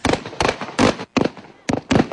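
Confiscated firecrackers such as Lolo Thunder, Pla-Pla and 5-Star go off at the QCPD Grandstand, making loud, close clusters of rapid crackling bangs separated by brief gaps.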